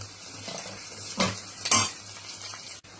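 Chopped carrots tossed into a hot pan for Maggi hakka noodles and stirred with a metal spatula, giving brief scrapes and clatters over a soft sizzle on high flame.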